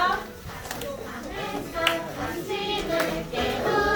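Children clap their hands along with a worship song at a Sunday school service, a steady, fairly loud rhythm of claps mixed with young voices and music in a church room.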